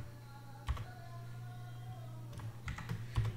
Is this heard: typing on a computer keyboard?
yes